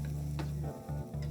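Spices sizzle in a hot pan. The frying hiss is steady and close, with a couple of brief dips, and no talk over it.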